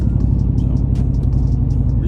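Whipple-supercharged 2021 Ford F-150 truck cruising, a loud, close, deep engine rumble with a steady throb and faint higher whine bursts on top, no voices.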